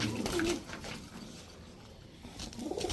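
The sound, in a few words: pigeons cooing, male high-flyer Giribaj pigeons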